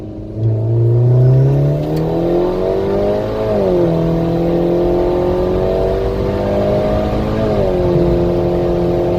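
Stage 3 turbocharged Mini with a Turbosmart Kompact fitting, pulling hard from a second-gear roll. The engine note climbs loud and close, then drops at two quick upshifts before rising again.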